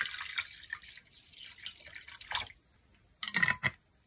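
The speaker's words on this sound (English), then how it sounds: "I'll start by just adding water into this container." Water is poured and splashes into a container in several uneven bursts, trickling and dripping in between before a final louder splash, close with no speech.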